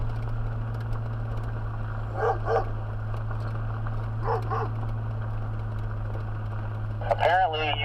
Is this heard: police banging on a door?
no